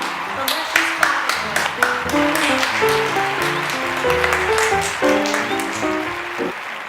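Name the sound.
audience clapping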